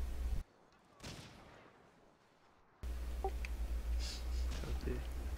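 Scattered gunshots and bursts of gunfire from the World War II shooter game Hidden and Dangerous 2 crackle through a co-op match, mixed with game ambience and a low engine-like hum.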